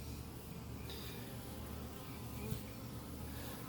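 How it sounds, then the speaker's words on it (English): Several bees buzz steadily around an open Flow Hive during a hive inspection, a continuous droning hum close by with a brief louder pass near the end. "And there's a few bees."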